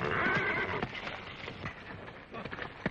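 A horse in a 1930s Western film lets out a loud whinny at the start, followed by clopping hooves and scuffling close by, with a voice speaking faintly behind.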